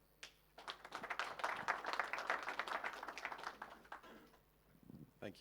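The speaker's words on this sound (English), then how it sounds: "So please give him a round of applause" Audience at a conference panel session applauds the moderator with a steady burst of many hands clapping, fairly faint and distant, fading out toward the end.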